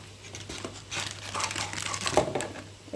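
A spice packet is crinkled and handled close by in a kitchen, giving steady papery rustling and crackling for about three seconds, with a few sharper crinkles near the end and no talking.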